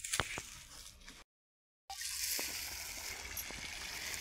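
A steady outdoor stream of water gushes and splashes from a solar-powered pump, briefly cutting out before resuming at a constant level.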